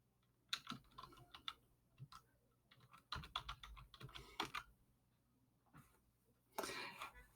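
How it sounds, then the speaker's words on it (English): Quiet bursts of typing on a computer keyboard, irregular clusters of clicks up close, with a rustling, breathy noise near the end. "we're just gonna type it"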